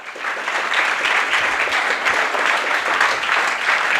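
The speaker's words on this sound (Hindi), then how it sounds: "तो एक बार जोरदार तालियां आपके अपने लिए हो जाएं।" Students at a school gathering give loud, sustained applause, a dense continuous wash of many hands clapping at an even level throughout.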